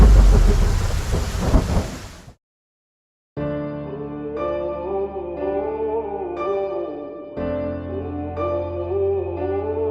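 Heavy rain pours with a deep rumble of thunder, loud and close, for about two seconds before cutting to silence, after which sustained melodic music plays.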